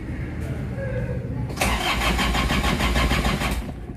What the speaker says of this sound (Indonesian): Sekarang kita coba hidupin mesinnya ya. Ini kuncinya ya. Kita coba starter ya.